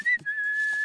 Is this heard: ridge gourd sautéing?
no